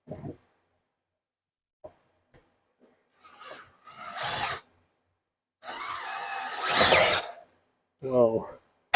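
A power drill spins an auger bit mounted on a chain of a 1/4-inch to 3/8 socket adapter and an 11mm socket, firing in short bursts with quiet gaps between them, and a voice exclaims near the end.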